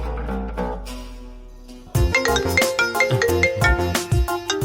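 A mobile phone rings with an incoming call, its loud melodic ringtone tones repeating in a bright pattern that starts softly and then jumps to full volume, with no talking.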